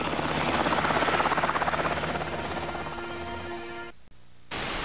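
A Tennessee National Guard Black Hawk military helicopter flies with a loud, steady rotor chop and engine whine that gradually fades, then cuts off abruptly near the end.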